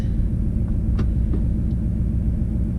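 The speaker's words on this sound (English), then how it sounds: "let's see what the 1-2 shift does with the no boost." A turbocharged Cadillac Escalade running without boost through a 1-2 gear shift, heard from inside as a loud, steady low engine rumble with a brief change partway through.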